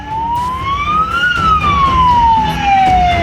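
A fire engine siren from Pasuruan city fire trucks wails loud and near in one smooth rise and fall, over a rumble of traffic, with no talking.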